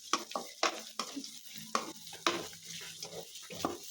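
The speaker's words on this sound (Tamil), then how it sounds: "வெங்காயம் ஒரு 5 பச்சை மிளகாய் அப்படியே போட்டுறேன்." Sliced onions and green chilies sizzle in a pan while a spoon stirs them in quick, repeated scrapes, a soft frying hiss running underneath the sharp, close stirring strokes.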